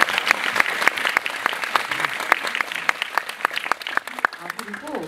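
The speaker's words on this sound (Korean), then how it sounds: "박수는 우리 감독이 이제 그만 긴장하시라고 한번 쳐드리도록 하겠습니다" A film premiere audience at a Q&A screening claps for the director, with sharp, scattered hand claps ringing out close and lively for several seconds, then thinning as a voice begins to speak.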